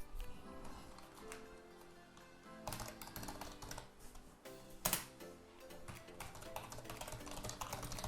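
Fingers tap quickly on a computer keyboard in quiet, close, uneven bursts of clicks, with a few louder keystrokes standing out.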